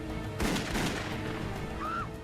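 Gunshots fired aboard a PSA airliner in a dramatised reconstruction, a quick burst of two or three sharp cracks followed by a lingering rumble inside the cabin.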